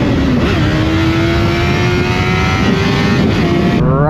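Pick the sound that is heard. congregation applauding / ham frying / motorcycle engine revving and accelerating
motorcycle engine revving and accelerating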